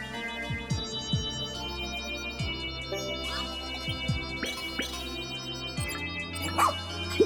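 A cartoonish dog in the Pikmin 4 video game barks and yips in short, repeated bursts over steady game music, fairly loud and close, with no talking.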